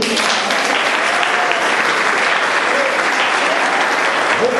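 Congregation applauding in a church, dense steady clapping from many hands that stays loud and even throughout, with no pauses.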